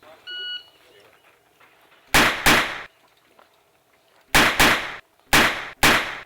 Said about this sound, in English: and pulls the trigger